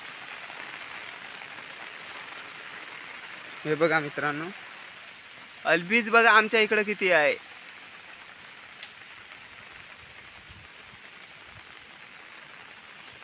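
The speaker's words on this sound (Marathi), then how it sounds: "पाऊस पण आला आता" Rain falls outdoors in a steady, soft hiss that continues throughout, broken briefly by a person speaking.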